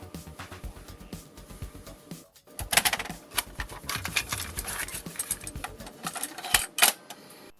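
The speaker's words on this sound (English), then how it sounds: "let's get this into a tape drive" Tape cassette being handled and pushed into a tape drive, a run of close mechanical clicks, clacks and rattles with a brief pause before a busier stretch of clatter.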